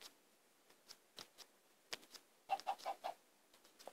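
Several short game-style chicken clucks from Minecraft-style poultry, a quick cluster of soft clipped calls in the middle amid scattered faint ticks, fairly quiet and with no talk.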